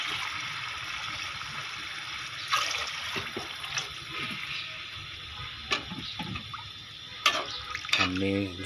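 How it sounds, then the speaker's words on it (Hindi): Water is poured into a cooking pot holding rice for chana pulao, a steady running splash with a few clinks of the vessel near the end, no speech over it. "अब इसमें आपने चावलों के हिसाब से पानी डाल देना।"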